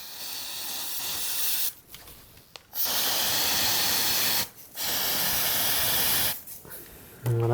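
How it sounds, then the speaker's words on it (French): A can of cold spray hisses onto chocolate in long, loud bursts, with several spraying blasts separated by short pauses, close to the listener. "vous pouvez tout simplement avec la bombe à froid limiter la descente"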